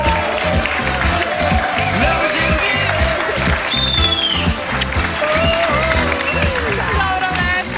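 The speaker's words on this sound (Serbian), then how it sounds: "Jedan aplauz za njih." Studio audience on a TV talk show applauding steadily, with dense sustained clapping that fills the whole stretch at close range while a voice speaks over it.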